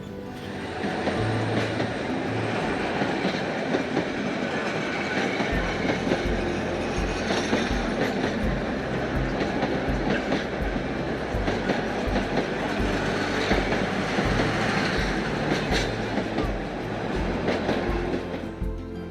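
The Haor Express passenger train runs at night on the Dhaka to Mohanganj line, heard from inside as a loud, steady rumble with rhythmic wheel clatter throughout.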